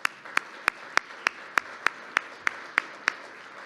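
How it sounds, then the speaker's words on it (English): Sparse applause for an association chairman at an annual meeting, heard as a single pair of hands clapping in a steady, evenly spaced rhythm of about a dozen sharp claps, with no voices over it. "can we get a quick round of applause for Bruce?"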